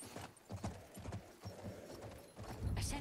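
Horse hooves clop in Battlefield 1, sounding as soft, uneven hoofbeats under quiet game ambience, with a brief louder burst at the end.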